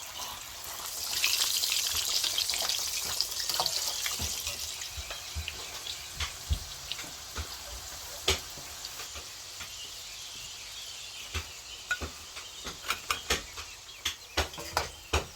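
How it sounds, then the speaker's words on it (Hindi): Momos dropped into hot cooking oil for tandoori chicken momos, with a broad sizzling hiss at first that settles into scattered close crackles and pops, growing sharper and more separate toward the end. "तो कुकिंग ऑयल गर्म हो चुका है, तो इसमें डाल दूँगी मैं मोमोज़।"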